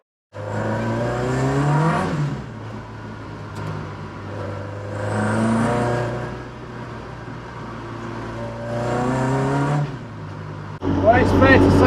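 Ford Escort Mk2 revving and spinning its wheels on a wet, slippery road, with repeated rising engine surges in bursts, heard close from inside the car.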